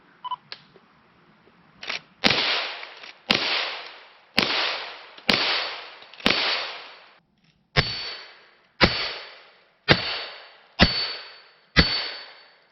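A .22 fires at a steel target, giving about eleven sharp, close reports spaced a second or so apart. Each crack rings briefly and decays, with no talk over them.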